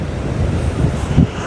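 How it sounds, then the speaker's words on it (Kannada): Sea waves washing on a beach, a low rumbling surge with wind buffeting the microphone, close and fairly loud, no talk. "ಸಮುದ್ರದ ಅಲೆತ ಸೌಂಡಿಗೂ"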